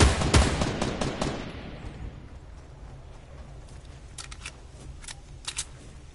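Video game gunfire crackles in a fast burst of sharp shots at the start, then fades into a low ambient hum, with a few quieter scattered shots near the end.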